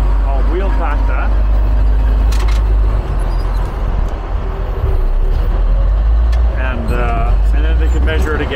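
Heavy equipment rolls its wheel over freshly placed fill along a string line on a grading site, a loud, constant low engine rumble with creaks and clanks, while someone talks over it.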